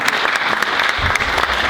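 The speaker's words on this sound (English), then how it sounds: "Can we get another round of applause for Tracy John?" Crowd applause at a Black Mental Health Week closing ceremony, steady dense clapping throughout a short burst, loud and close.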